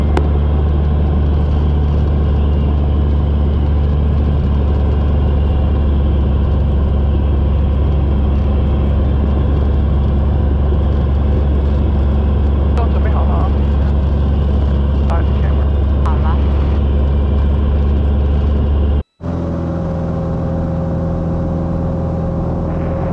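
Cessna 182 piston engine holding a loud, steady drone throughout its departure from Leesburg's runway 17, the tone dropping abruptly near the end to a lower, quieter hum, with brief radio voices over it.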